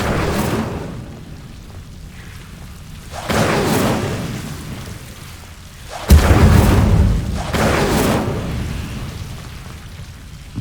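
Incendio fire spells cast in Hogwarts Legacy let out heavy booming whooshes, three or four fiery bursts with a sharp loud blast partway through, each trailing off into a crackling rumble.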